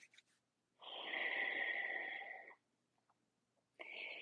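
A long, steady breath drawn deeply through the nose during a yoga flow, rushing for nearly two seconds before fading, with a second breath starting at the end; close and fairly loud against a quiet room.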